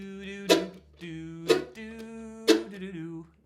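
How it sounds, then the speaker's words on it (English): Chopped backbeat chords for a song land on beats two and four, three sharp bright strums spaced evenly about a second apart over a soft sustained ringing chord, with no voices. "So if I just played the backbeat to this, it would sound like this."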